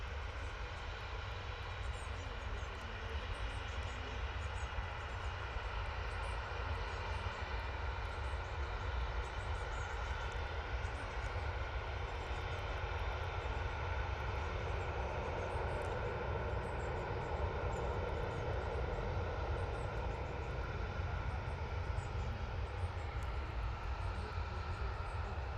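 An EasyJet airliner departing at Manchester produces a faint, steady engine rumble and roar, continuous and fairly distant, with no voices present.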